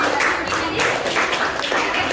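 A small group of students claps in a classroom, a short burst of loose, uneven hand claps at moderate loudness.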